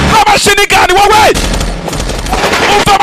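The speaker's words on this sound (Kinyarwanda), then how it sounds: "umvi umututu w'imbunda" Rapid gunfire bursts from a dubbed action film crackle loudly in quick volleys, mixed with a voice-over speaking over the shots.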